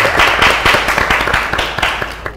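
Applause for a music video staff, a burst of sharp, close handclaps from a small group in a room, quick and uneven, with voices mixed in.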